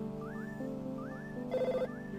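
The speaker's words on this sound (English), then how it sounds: "Oh, the phone!" Telephone ringing in the EarthBound video game, a chiptune ring tone that repeats three times in quick rising chirps over looping background music, faint and without speech.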